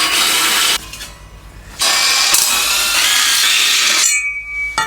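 Tools at work unbolting jig plates from a one-ton axle on a Range Rover camper build: loud bursts of whirring power-tool noise broken by short pauses, up close with no talk.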